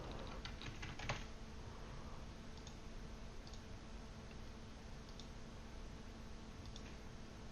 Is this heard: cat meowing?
no